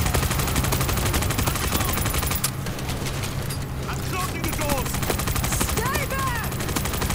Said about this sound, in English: Just keep opening fire on them, trying to fuck them up.